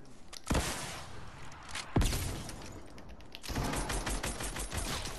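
Sniper rifle fire in the Fortnite video game: two sharp, loud shots about a second and a half apart over steady game background noise, with no speech.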